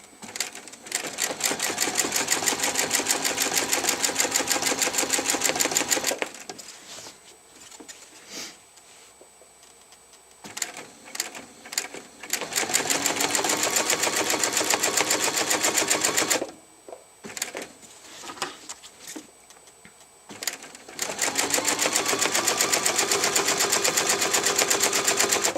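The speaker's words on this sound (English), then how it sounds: "I come to the corner, I can just take my foot off the gas." A sewing machine doing free-motion doodle stitching runs in fast, steady buzzing bursts, stopping and restarting a few times with quieter handling noise in the pauses.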